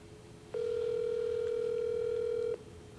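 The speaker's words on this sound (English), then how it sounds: "Oh, it's ringing." A single steady telephone ringing tone on a forwarded call, one sustained electronic tone lasting about two seconds before cutting off, clear over a quiet background with no talking.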